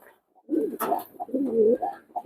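Pigeons sitting on their eggs in a loft give soft, throaty cooing calls in several short bursts, close and fairly quiet, with no speech over them.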